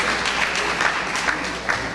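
A crowd claps together at an 83rd birthday celebration in Washington DC, a sustained, even patter of many hands at moderate loudness for about two seconds, with no talking over it.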